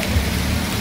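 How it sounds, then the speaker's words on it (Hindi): Heavy downpour drums steadily on a street in Santosh Nagar, Hyderabad, with a dense wash of rain noise and water running over the road, loud and continuous. "आप ये देख सकते हैं बहुत तेज़ बारिश है"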